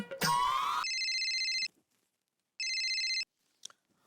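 An electronic telephone rings in two bursts of a steady, bright tone with a pause between them, preceded by a short rising sound and followed by a faint click, all in a quiet room.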